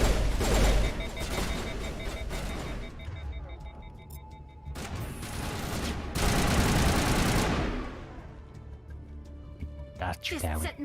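Pistol gunfire in the Mass Effect Legendary Edition video game, loud repeated shots in dense bursts mixed with explosions and battle noise, with a voice talking over the fighting.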